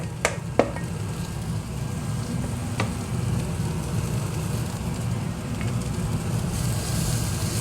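Garlic frying in a pan with onions and red peppers for Szechuan chicken noodles, a steady close sizzle running throughout with a couple of sharp clicks near the start.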